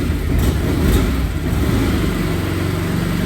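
A Can-Am off-road vehicle engine running after a fuel pump repair, a steady loud close rumble with a continuous low throaty drone holding even throughout.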